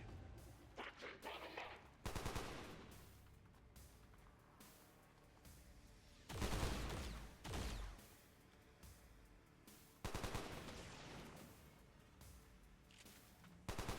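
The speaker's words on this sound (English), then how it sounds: "Taking heavy fire!" Gunfire in XCOM 2 Long War of the Chosen, a turn-based combat game: several separate bursts of automatic weapon fire, loud and sharp, set apart by quieter stretches.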